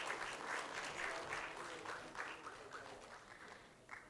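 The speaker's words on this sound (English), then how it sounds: "A big round of applause, everybody." A round of applause breaks out from the audience at the close of a climate change symposium in Kuala Lumpur. The clapping is fairly faint and distant and tapers off gradually, with some voices mixed in.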